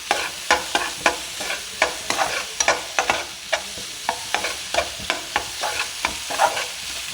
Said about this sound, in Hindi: इसको हम अच्छी तरीके से मसाले में भूनेंगे।